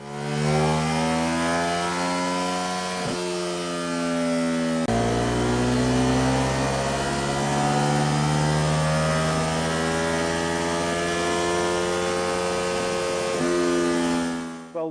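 A Ducati Hypermotard 950 with an Austin Racing exhaust and a custom ECU remap revs hard and close. Its loud, sustained engine roar rises and falls through several throttle blips over steady idle, with no talk.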